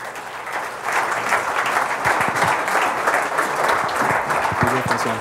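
A conference audience breaks into sustained, dense applause to welcome a speaker onto the stage, a steady wash of many hands clapping at close range.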